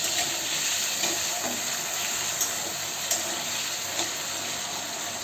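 Diced potatoes frying in hot oil for sabudana khichdi, a steady close sizzle and watery hiss with a few faint crackles, no talking.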